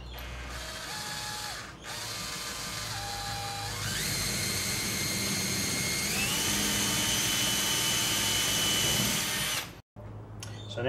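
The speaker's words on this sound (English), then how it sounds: "what I'm going to do now is pre-drill it and then set the screw through" Power drill pre-drilling a pilot hole in timber for a screw while building an outdoor seat and pool pump cover: a loud, close whine that rises in pitch as it bites in, then stops abruptly.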